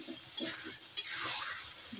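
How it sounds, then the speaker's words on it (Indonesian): Spices and grated young coconut frying in a pan, stirred with a spatula: a steady sizzle overlaid with rhythmic scraping strokes across the pan, close and fairly quiet. "Kita tunggu dan kita aduk-aduk hingga kekuningan pemirsa."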